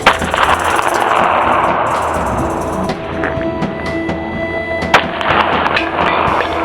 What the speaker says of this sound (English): I hit the can once, so now I will pull the clip, reload it.